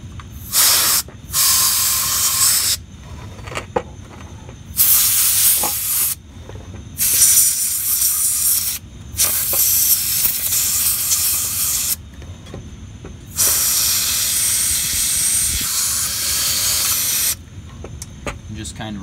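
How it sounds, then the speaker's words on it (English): Repeated bursts of compressed air hissing from a canned air duster sprayed into the electromagnet of a mechanical fire alarm horn, several long blasts separated by short pauses, loud and close. "I take some electronics duster, canned air,"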